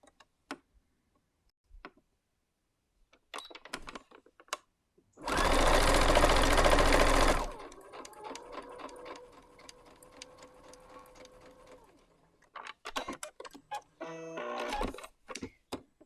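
A sewing machine runs a quarter-inch seam on a disappearing four patch quilt block in one loud burst of about two seconds. Quieter clicks and handling noises come before and after it.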